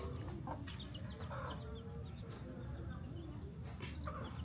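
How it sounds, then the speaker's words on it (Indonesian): Village chickens in a kampung of Tangerang, Indonesia, clucking in short repeated calls over a background of outdoor morning ambience, with voices murmuring faintly. "Tuh ada ayam."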